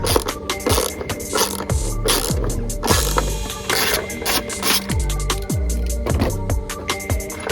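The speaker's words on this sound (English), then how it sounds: "this is just loosening a little chuck on the side of the battery that's going to loosen it up" A ratchet loosens the battery hold-down clamp on a Ford F150, making rapid, continuous close clicking with repeated swings and short pauses.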